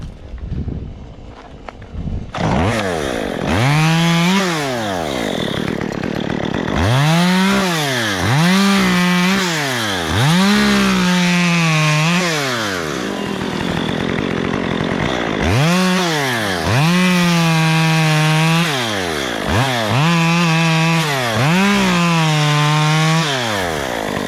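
A chainsaw cuts through pine trees, its engine repeatedly climbing to a loud whining bite and dropping back to idle, close and continuous for over twenty seconds.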